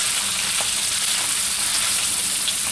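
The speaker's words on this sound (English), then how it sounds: "I'm just going to keep stirring this until it's soft." Kohlrabi fries in a pan over medium heat, giving a continuous loud sizzle with faint scraping as it is stirred, close up and with no talking.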